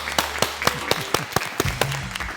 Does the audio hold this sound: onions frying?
no